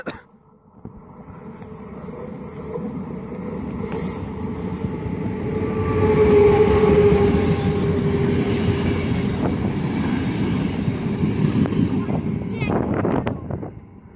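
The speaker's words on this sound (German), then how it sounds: "Der fährt jetzt aber durch mit 60, glaube ich." An express train passes through a station at about 60 km/h, a long rising rumble of wheels and carriages with squeals and rattles that swell in the middle and hold steady until the end.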